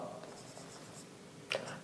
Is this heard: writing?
yes